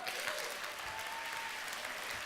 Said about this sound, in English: One more big round of applause to distinguished Toastmaster Lisa Evans, the Story Midwife